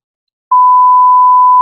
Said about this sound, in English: It's gonna be one long beep.